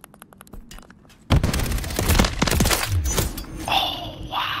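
Call of Duty MW3 gunfire starts with sparse, quick shots, then bursts into loud, heavy automatic fire with booming impacts, continuing in dense volleys.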